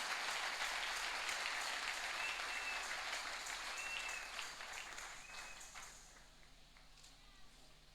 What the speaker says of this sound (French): Aplaudimos para o Senhor